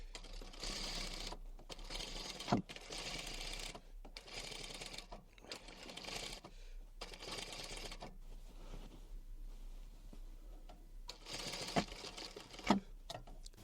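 A sewing machine topstitches a box cushion cover in quiet, intermittent runs of rapid, even stitching, with brief pauses and a few small clicks between bursts.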